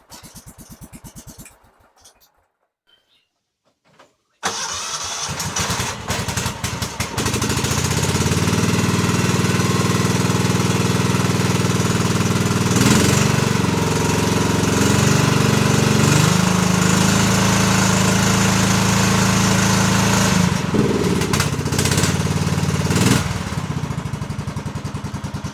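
A tractor with a Kohler Command engine, unused all year, cranks briefly after a few seconds of quiet, then catches and settles into a loud, steady close idle that holds with slight dips for the rest of the clip.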